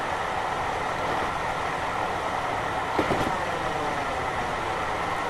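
Mark 1 coach riding on BR1 bogies at 70 mph in Train Simulator 2020, a steady rumbling roll with rail noise and a brief clunk midway, continuous and close with no talking.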